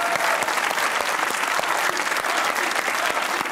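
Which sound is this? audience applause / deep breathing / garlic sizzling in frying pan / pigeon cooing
audience applause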